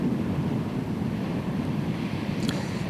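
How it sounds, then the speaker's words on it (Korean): Strong sea waves and wind batter a rocky fishing spot, producing a loud, continuous roar of surf and blustery gusts against the microphone. No voices are heard. "파도가 너무 세고 조류가 마음대로 요동을 치니까"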